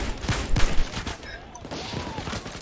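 Gunfire in the heist game Payday 2, repeated loud shots in uneven bursts, heaviest early and then continuing more sparsely under a busy, noisy background.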